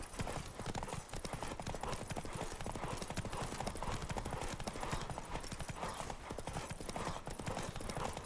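Roach the horse in The Witcher 3, hooves clip-clopping at a steady gallop, continuous and dense under game sound with a voice talking over it.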